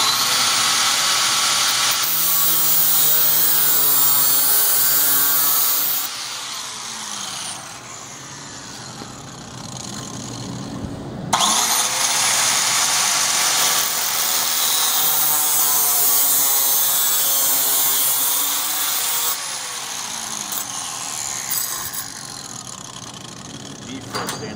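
A power tool cuts through B4 stainless steel with a loud, sustained grinding whine. It pauses briefly twice and then resumes, while voices talk faintly underneath.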